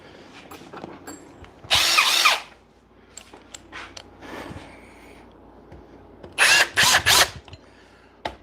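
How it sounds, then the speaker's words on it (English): Ridgid Stealth Force impact driver fires in short loud bursts nearby: one sustained run, then a quick cluster of three hammering bursts. Quiet clicks and handling sounds fill the gaps. "Ridgid stealth force, my favorite impact driver ever."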